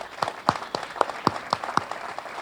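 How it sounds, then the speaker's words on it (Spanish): Audience applause at a journalists' open forum and book presentation, heard as rhythmic, evenly spaced clapping at a steady beat, fairly close and moderately loud, with softer scattered claps underneath. "pido un aplauso para Diego Cabot."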